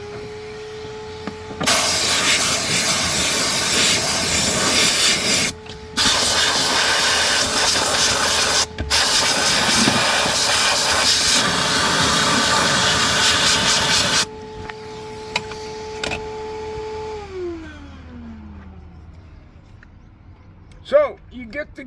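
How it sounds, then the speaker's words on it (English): Compressed air blasts in long hissing bursts through the engine bay of a 1980s/90s Mercedes-Benz while a vacuum cleaner hums alongside, then the vacuum motor winds down to silence. "So I'm going to have my vacuum cleaner going at the same time"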